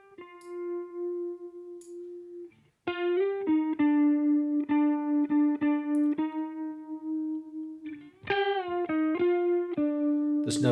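An electric guitar plays a sustained melodic line with repeated picked notes, distortion on one side and shimmering chorus on the other, fairly dry with no delay or reverb and no talking.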